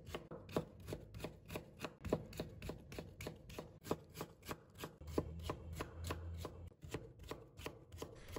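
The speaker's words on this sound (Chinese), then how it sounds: "用手将土豆放平，再改刀切成细丝。" A knife chops sliced potato into thin shreds on a cutting board, a rapid, even run of close, crisp knocks of several per second that continues without pause.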